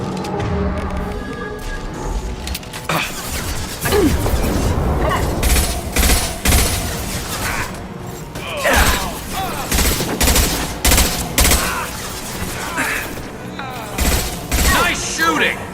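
Gunfire rattles through a Mass Effect 2 firefight as bursts of loud weapon shots and sharp impacts repeat in uneven volleys, with voices speaking among them.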